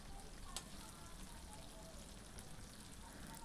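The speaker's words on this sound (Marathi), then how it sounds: "असा बटाटा सर्वप्रथम तेलावरती शिजवून घ्यायचा." Potatoes fry in hot oil for sabudana khichdi, a faint, steady crackle and sizzle with soft stirring noises and one brief sharper tick early on, no voices heard.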